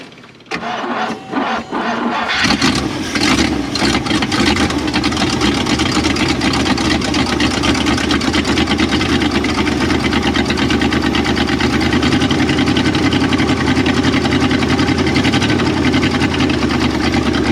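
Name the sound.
Jeep Gladiator engine starting and idling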